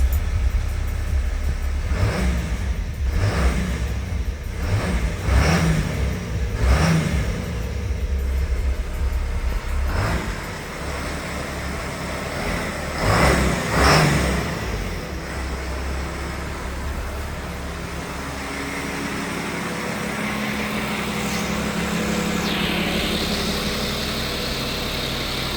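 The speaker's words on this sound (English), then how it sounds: "So I'm gonna rev it a few times" A Cummins 6.7 diesel pickup truck engine, stock apart from new rims, rumbles loudly and close by as it is revved several times in quick succession, then settles into a steady idle with a faint high whine.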